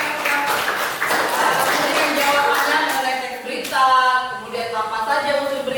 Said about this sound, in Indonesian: tepuk tangan untuk Ferdi